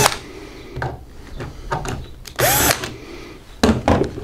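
Power screwdriver loosening captive corner screws on an analyzer cover, with short whirring bursts among clicks and handling knocks, up close and without talk.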